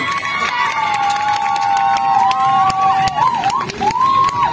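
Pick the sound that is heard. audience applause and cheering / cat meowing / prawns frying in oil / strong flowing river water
audience applause and cheering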